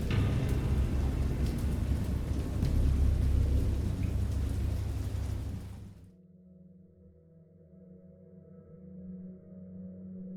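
Heavy thunderstorm sound effect: dense roaring rain with rolling thunder fills the first six seconds, loud and close, then cuts off abruptly to a low, quieter rumble and hum.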